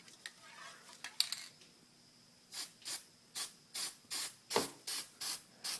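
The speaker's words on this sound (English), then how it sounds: "I'm just going to use my barbecue high heat ultra and just lightly put some on here." Short bursts of high-heat barbecue paint sprayed from an aerosol can onto an ATV exhaust wrap, about eight evenly spaced hissing puffs after some faint handling clatter, close and clear.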